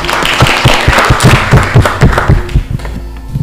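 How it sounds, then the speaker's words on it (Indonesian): A class of students claps hands in a brief rhythmic burst, roughly a dozen fairly loud, evenly spaced claps that trail off toward the end. "Oke, tepuk tangan dulu"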